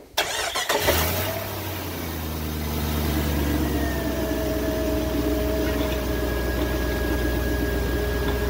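A Jeep WJ Grand Cherokee engine starts with a brief cranking burst, then settles into a steady, close idle with a faint whine from the power steering pump running throughout.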